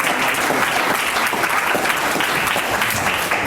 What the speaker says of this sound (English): She managed to get applause out of you twice